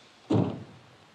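A wooden house door gives a single dull thunk as it is handled, close by and brief, fading quickly into a quiet room.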